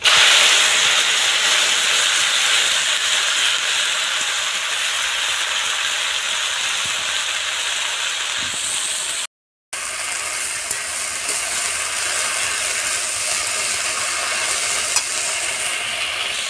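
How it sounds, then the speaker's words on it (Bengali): Dheki shak (fiddlehead fern greens) with garlic frying in hot oil gives a steady, loud sizzle and hiss throughout, briefly cut off midway, with no talking. "রসুন, তেলের উপর দিয়ে দিব শাক"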